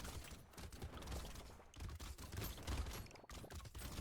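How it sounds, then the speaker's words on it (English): Massive explosions boom continuously in the video game Brotato, a dense rumbling barrage of blasts and crackling bursts with no pauses, moderately loud. "It's getting blown up by our massive explosions"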